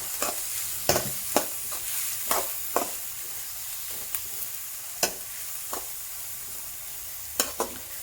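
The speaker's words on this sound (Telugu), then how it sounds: "ఆయిల్ వేడైన తర్వాత ఈ బిర్యానీ స్పైసెస్ అండ్ కొంచెం షాజీరా నెక్స్ట్ ఆనియన్స్." Biryani whole spices, shahjeera and onions fry in hot oil with a steady soft sizzle, broken by several sharp clinks and scrapes of a spoon stirring the pan, all close and without voices.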